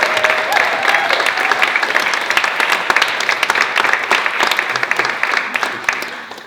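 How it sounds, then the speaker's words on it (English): Concert audience at a community music showcase giving a long, steady round of applause, a dense close patter of many hands that tapers slightly at the end, with a few voices underneath. "we can give one final round of applause to Mikahely."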